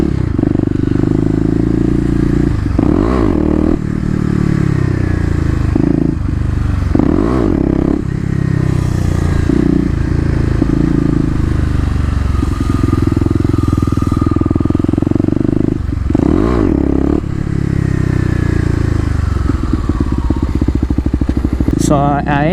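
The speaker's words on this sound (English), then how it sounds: "So I am getting the front wheel up, just not very high. Not enough revs there." A KLX250 motorcycle revs hard during second-gear wheelie practice at a mall, its engine rising and falling in repeated surges with clattering mechanical noise, loud and close throughout.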